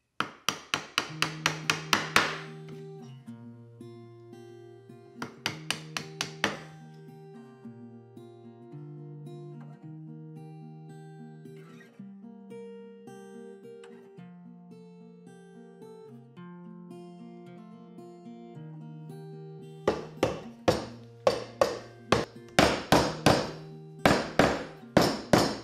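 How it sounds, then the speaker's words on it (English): Sharp mallet-on-chisel strikes cleaning out a mortise for a Moxon vise, in quick bursts at the start and a longer run at the end, with quieter tonal background sound in between. "cleaned up the mortise with a chisel"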